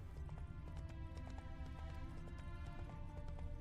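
Galloping horse hooves in The Witcher 3 video game, a quick, steady clip-clop rhythm that runs throughout, faint and heard over a low rumbling game soundscape.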